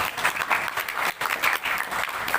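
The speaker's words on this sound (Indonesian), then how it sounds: "Tepuk tangan semua untuk kita yang ada di sini" An audience of students at a school leadership seminar applauds together, a dense, loud, sustained round of clapping that briefly dips midway and then carries on.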